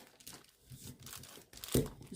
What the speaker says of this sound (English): I'm also just working on a little bit of greaseproof paper as well.